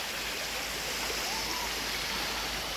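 A river flows in a soft, continuous burble, fairly faint and steady, with a brief hint of distant voice beneath the water.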